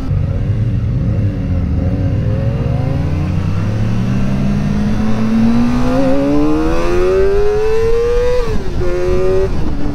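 A Kawasaki ZX-4RR 400 cc sport motorcycle with a quick shifter accelerates hard, its high-pitched engine whine climbing steadily through the gears with a short dip at a shift, loud and close with wind noise throughout.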